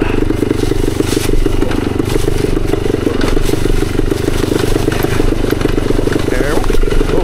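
A 1972 Yamaha DT2 enduro motorcycle rides over a leaf-covered trail, its engine buzzing loud and close throughout, with clattering and thuds from the rough ground. Voices are faintly present under the engine.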